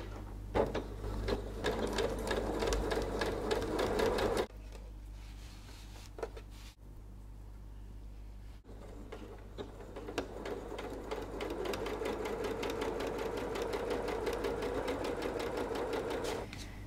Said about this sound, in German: Und jetzt geht's an die Nähmaschine.